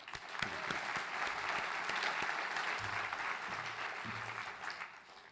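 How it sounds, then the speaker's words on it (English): Steady applause from a crowd at a Western Australian government department event, sustained for several seconds at moderate level before tapering off at the end. "Why don't we give Holly a clap"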